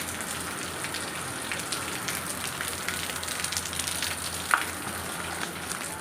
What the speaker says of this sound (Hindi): तो देखो इतना बारिश होती।